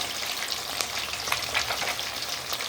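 Fish pieces fry Bihari style in hot oil in a pan, giving a steady, dense sizzle with light spattering crackles that stays even throughout, close and alone with no voices.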